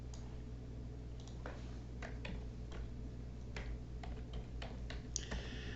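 A computer keyboard is typed over a steady low hum: a run of light, irregular key clicks, fairly quiet and spread across the whole stretch, with no talk.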